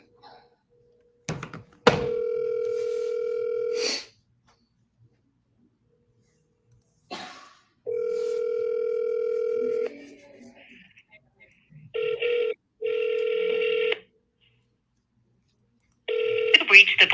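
Telephone call being redialed: a steady dial tone and ringback tones sound in long bursts separated by a few clicks and thunks of a handset, loud and close with no talking.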